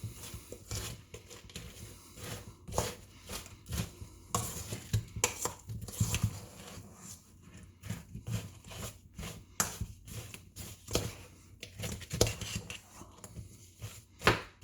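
Cookies and hot chocolate coating stirred together in a bowl for a lazy cake, with repeated close scraping and clinking of a utensil against the bowl in an irregular rhythm, steady throughout without talk.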